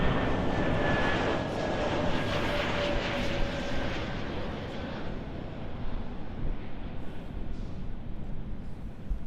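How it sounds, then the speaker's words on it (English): A Delta Airbus A321neo from Orlando arrives at Los Angeles airport, its jet engines making a loud, steady roar that fills the whole stretch without a break, with no talk. "On screen there is a Delta Airlines flight DL652 coming in from Orlando. It's an Airbus A321-200 Neo."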